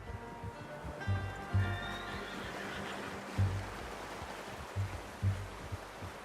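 A horse in the Western video game Red Dead Redemption II gives a clear descending whinny, followed by several heavy, low hoof thuds and snorts spaced irregularly, fairly faint against a soft outdoor ambience.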